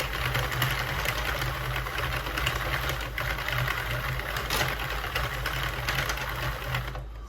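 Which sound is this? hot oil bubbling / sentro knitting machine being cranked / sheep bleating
sentro knitting machine being cranked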